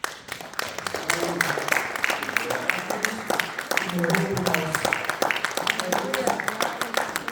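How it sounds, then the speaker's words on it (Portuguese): Church congregation clapping at a service, a crackly spread of many hands steady throughout, with voices speaking over the applause. "uma salva de palmas"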